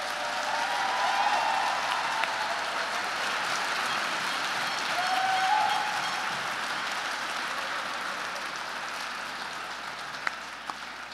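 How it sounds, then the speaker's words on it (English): At a graduation ceremony, an audience gives the graduates a sustained round of applause, a broad and even wash of clapping that sounds somewhat distant and soft. "Please give all of our graduates another round of applause."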